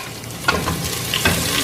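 Plenty of garlic dropped into hot oil for ginataang aninikad, a bright crackling sizzle that flares up in short bursts while being stirred, close and with no talk.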